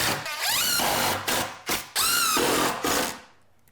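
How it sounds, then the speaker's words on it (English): A power drill drives 1 3/4 inch screws into a scrap-wood garage workbench shelf, with several loud whirring bursts whose pitch rises and falls as each screw bites, separated by short pauses. "I'll use some 1 3/4 screws to attach this."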